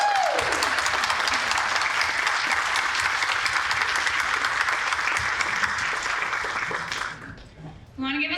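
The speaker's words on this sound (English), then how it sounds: "Let's give them an applause." Symposium audience applauds helpers and youth volunteers with loud, dense clapping for about seven seconds before it stops abruptly, followed by a brief voice.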